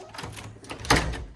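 A door opens in a London building right after an elevator arrives at the third floor, giving a short clunk and sliding swish over steady background noise.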